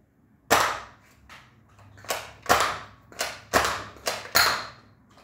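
A Nerf blaster fires flipping pearl darts in a quick series of about seven sharp, close pops. Each shot has a short mechanical thump, and the gaps between shots are uneven.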